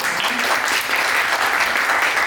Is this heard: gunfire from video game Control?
no